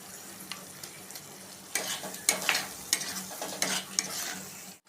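Ginger paste fries in a pan with onion paste for chicken kosha: a soft continuous sizzle under repeated scraping stir strokes, with sharper spoon-against-pan scuffs clustering in the second half. No voices.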